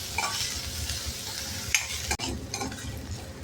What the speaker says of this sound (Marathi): आता मंद गॅसवर आपण कांदा परतून घेणार.